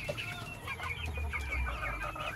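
Backyard chickens cluck in a steady, overlapping murmur of soft calls, fairly close and continuous, with no one speaking.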